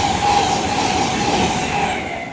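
Train passing at Retford on the East Coast Main Line, a Leeds to London King's Cross service, heard as a steady close rumble with a thin sustained whine, easing slightly at the end.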